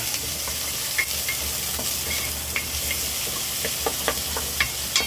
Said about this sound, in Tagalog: Sibuyas. Sabay ko siya. Gisa.